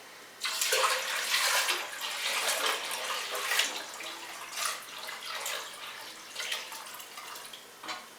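Water poured from a blender pitcher into a container of brewed tea, a steady splashing pour lasting several seconds that tapers into uneven trickles and gurgles near the end, close and fairly loud with no talk.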